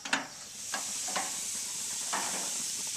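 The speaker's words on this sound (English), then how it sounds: "We'll give the steak a stir." Steak and shrimp sizzling steadily in a hot pan for an instant-ramen surf and turf grill, a constant bright hiss with a few soft scrapes as the meat is stirred.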